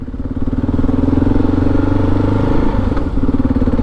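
A Kawasaki KLR 650 motorcycle rides along with a loud, close engine thrum, a steady pulsing single-cylinder chug with some clatter and wind buffeting, and no voice over it.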